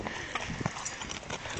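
Horse hooves clip-clop on a road outdoors, a few irregular knocking steps close by with light background noise and no clear talk.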